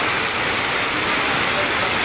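Heavy rain pouring down on Carmen Street in Tondo, a dense, steady hiss of downpour close by and loud, with no voices.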